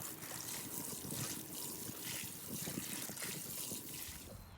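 Water trickles and splashes steadily onto soil in a potato-growing container. The sound is soft and continuous, with gentle pulsing surges and no speech.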